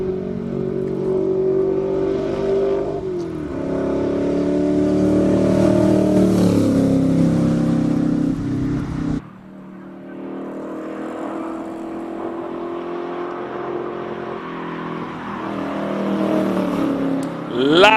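Classic race cars accelerate on practice laps at a circuit, their engines roaring in a steady, loud drone with rising and falling revs, one pass fading into another after a brief dip, with no voices heard.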